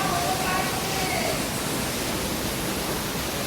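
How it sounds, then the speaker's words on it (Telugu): An artificial waterfall at an exhibition gives a loud, steady broadband rush of falling water that holds unbroken from start to finish, with a faint voice briefly over it. "ఇదేంది నిజంగా వాటర్ ఫాల్ ఉంది"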